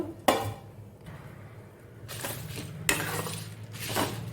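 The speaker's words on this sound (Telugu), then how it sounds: "ఒకసారి మిక్సీ డ్రై రోస్ట్ చేద్దామని ఇవన్నీ పాన్లో వేసేసుకుంటున్నాను" Peppercorns and whole spices dry-roasting in a pan, heard as several distinct rattling bursts as they are poured and stirred against the metal, with quieter gaps between.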